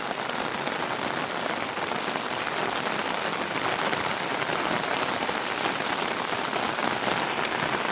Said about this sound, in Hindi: बारिश हुई है तेज़